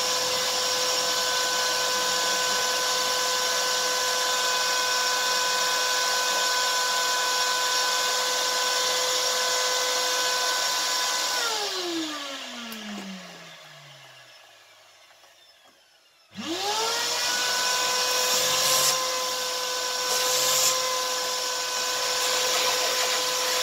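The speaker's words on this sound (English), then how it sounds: "And then once again, I'm just gonna use the vacuum." A vacuum cleaner runs loudly and steadily while cleaning a coffee roaster, winds down and briefly stops, then starts up again and keeps droning.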